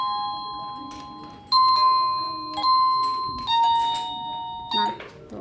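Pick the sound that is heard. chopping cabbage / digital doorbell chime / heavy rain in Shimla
digital doorbell chime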